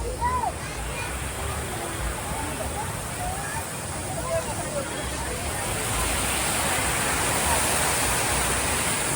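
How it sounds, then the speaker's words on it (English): Steady rushing of moving water at Magic Kingdom's Main Street U.S.A., a broad continuous wash heard at moderate distance, with faint crowd murmur and a few distant voices underneath. "Love that moving water."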